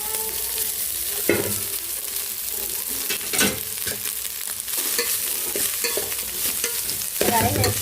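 A spatula stirs leftover rice into egg keema curry in a hot pan, producing repeated scraping strokes over a continuous close-up sizzle of frying.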